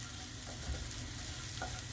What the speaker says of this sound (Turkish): Kısık ateşte yavaş yavaş çevirerek kızartıyorum ekmeklerimi.